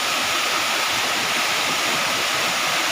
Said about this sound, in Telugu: ఈ అందమైన జలపాతం.